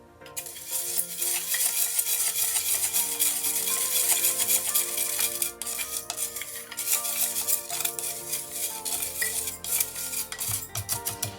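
Alcohol inks get stirred into resin in a cup, a busy run of scraping and clinking stir strokes, close and fairly quiet, continuing steadily with brief irregular taps.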